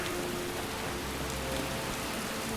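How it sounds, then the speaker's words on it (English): Steady rain falling in the video game Skyrim Special Edition, a soft continuous wash of drops pattering evenly throughout, fairly faint with no talk over it. "Damn, I'm getting rained on."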